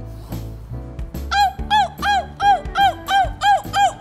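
A person imitates a dog with a rapid run of about eight loud, yelping barks in steady rhythm, after some low rustling.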